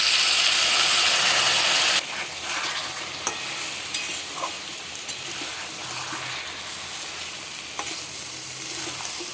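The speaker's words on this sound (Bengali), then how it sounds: "একটু জল দিয়ে আর একটু কষাবো।" Raw papaya with moong dal stir-fried in a pan: a loud hissing sizzle at first, then softer frying with repeated scraping and clinking of the stirring utensil, heard close with no talk.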